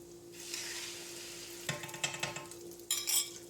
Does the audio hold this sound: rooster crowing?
no